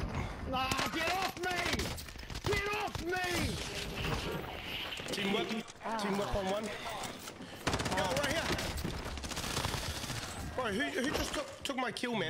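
Gunshots in Warzone: repeated sharp bursts of gunfire spread across the stretch, with someone talking over much of the shooting.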